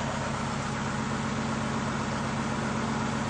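Lawnmower engine running on nitro fuel, idling around 1,000 rpm with a misfire, a steady low mechanical drone with a rough, continuous rumble and no speech.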